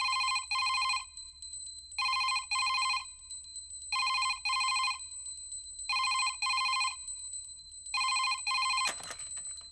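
A telephone rings in regular double-burst pairs, five times over quiet room tone, clear and fairly near, followed by a short clatter as it is picked up.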